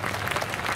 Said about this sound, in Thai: เสียงปรบมือให้กับการแสดงชุดศิลป์เอกลักษณ์สำนักการสังคีตอีกสักครั้งครับ